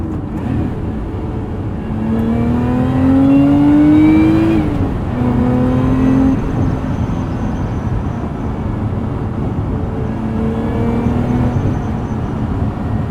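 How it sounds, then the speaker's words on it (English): A 2024 Lotus Emira's supercharged V6 with a six-speed manual revs in sport mode from inside the cabin. The pitch climbs steadily, drops at a shift, then rises again, with a strong, close engine note and no talk. "This V6 sounds fantastic. Let's go into sport mode. Let's listen to this engine sing a little bit."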